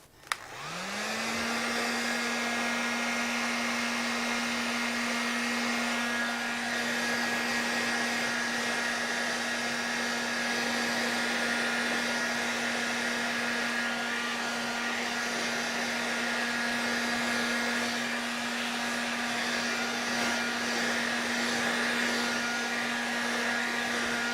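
A hair dryer drying paint runs steadily at close range, a constant whirring roar with a steady hum that holds unchanged for the whole stretch.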